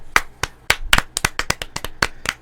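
A handful of sharp, close hand claps ring out in an irregular, slightly uneven rhythm, about a dozen distinct smacks in quick succession from a small group in a quiet room during a podcast recording.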